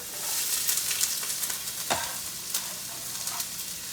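Chopped onion and two carrots fry in oil for a shepherd's pie while being stirred, giving a constant close sizzle with scraping stir strokes throughout.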